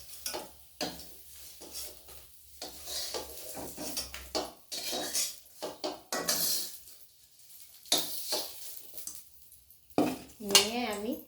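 A metal spatula clanks and scrapes against a kadai as fried brinjals are lifted out of hot oil, with irregular clatters separated by brief pauses and a faint sizzle underneath.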